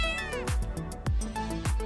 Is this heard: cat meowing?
yes